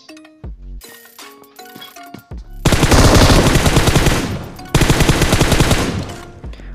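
Sustained M249 machine gun bursts in PUBG Mobile, loud and close: scattered mechanical clicks and tones at first, then two long dense volleys of rapid fire separated by a short gap.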